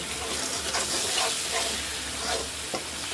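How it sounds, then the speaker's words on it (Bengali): Spices and onion fry in a pan with a little water just added, giving a steady broad sizzle with a few soft stirring scrapes, fairly close and continuous with no talk. "হালকা একটু পানি দিয়ে নেবো,"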